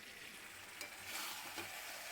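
Chicken dropped into a hot kadai and stirred, producing a faint, steady sizzle with soft scraping and stirring movements, quiet and close, with no voices.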